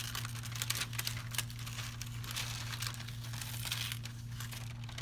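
Tracing paper pulled off a photo, a steady papery crinkle and rustle running several seconds at close range over a constant low hum.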